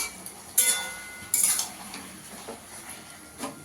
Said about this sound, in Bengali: ঢাকনাটা তুলে একটু নাড়া দিয়ে দেবো।